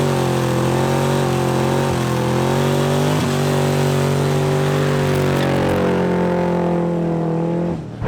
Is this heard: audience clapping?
no